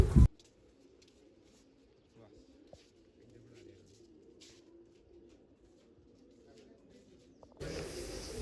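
Pigeons coo softly in the background while someone talks about dyeing them. Louder bursts of noise open and close the stretch.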